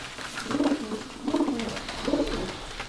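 Pigeons coo nearby in three soft, throaty phrases evenly spaced, each a low rolling warble, with no talking.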